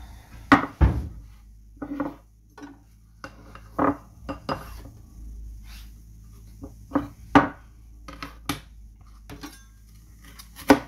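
Food going into a frying pan while spaghetti with tofu is being prepared in a home kitchen: scattered clanks and knocks of utensils against the pan, uneven and close, with quiet gaps between.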